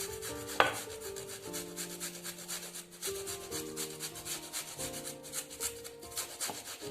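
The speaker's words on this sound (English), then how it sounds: "So now I am actually crushing this onion." An onion being crushed by hand for a DNA extraction experiment gives a steady rubbing, grinding scrape that runs throughout, with one sharp click near the start, over continuous background music.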